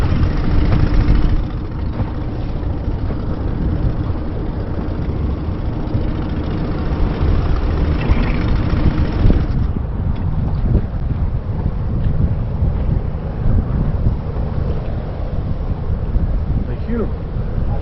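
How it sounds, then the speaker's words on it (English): A boat engine drones steadily at a distance near Monhegan Island, Maine, heard under strong wind buffeting the microphone from a cruising Island Packet 420 sailboat, with people talking nearby. "I hear a boat."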